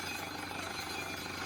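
A borewell drilling rig runs a 9-inch bit, giving a continuous loud, harsh pounding roar with no break across the short stretch and no voices.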